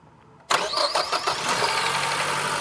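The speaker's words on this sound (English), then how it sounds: "Now start the engine." Car with an intermittent stalling fault cranks briefly and fires up, settling into a steady close idle after a sharp start, no talking.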